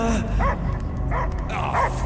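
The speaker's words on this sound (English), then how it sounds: "I hear only barking" A dog barks in the Guardians of the Galaxy video game: three sharp, loud barks spaced about evenly apart, set over a steady bed of game ambience.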